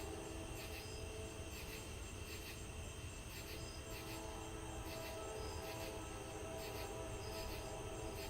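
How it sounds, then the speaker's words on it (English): Train passing at a distance, a faint continuous rumble with a thin, high squeal from the wheels and a steady rhythmic clicking above it, with no talk. "A slightly different pitch to this train."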